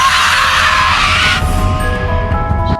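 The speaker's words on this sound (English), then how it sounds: "The monster let out a furious scream." A monster lets out a loud, furious scream in a horror TV series, a harsh shrieking cry that breaks off partway and gives way to a lower rumbling tone with lingering ringing.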